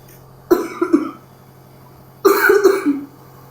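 Two separate bursts of harsh coughing from one person, close to the microphone, with a short pause between them and a low steady hum underneath.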